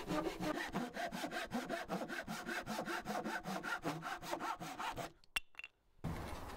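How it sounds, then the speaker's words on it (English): A Japanese pull saw cuts through wood for a ladder plant stand with a quick, steady series of rasping strokes, close and clear, ending in a brief pause and a light knock. "I'm using a Japanese pull saw to do all these cuts."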